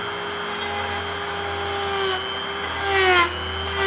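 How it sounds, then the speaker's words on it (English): A Dremel rotary tool whines at high speed while cutting through thick plastic, its pitch sagging and rising as it bites into the material over a steady hum. "So I'm gonna use the Dremel tool."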